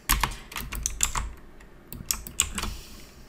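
Computer keyboard keys clatter in short, irregular bursts as email account details are entered, with clicks close and moderately quiet, and no voices.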